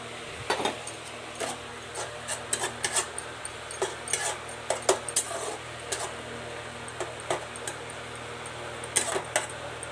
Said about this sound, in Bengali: মাছটা একটু কষানোর পর ও সবজিটা অ্যাড করবো তো দেখো কষা হচ্ছে